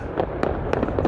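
Fireworks bursting over the Calgary Stampede in 2022, a rapid cluster of sharp distant bangs and crackles over a rumbling background, heard outdoors without talk.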